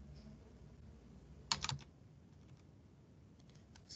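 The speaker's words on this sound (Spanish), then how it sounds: "vamos a utilizar por aquí mi teclado" A computer keyboard is typed on during a terminal command tutorial, a quick cluster of a few close key clicks over a quiet background hum.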